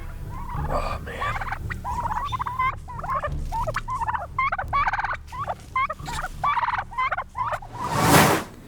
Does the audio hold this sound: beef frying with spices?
no